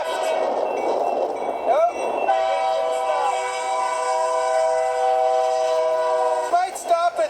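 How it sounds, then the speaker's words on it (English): A train on the line near a siding sounds a long, sustained horn blast over the rumble of railcars rolling by, and a person briefly speaks. "All right, here comes the train."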